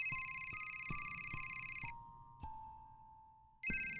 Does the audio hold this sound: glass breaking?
no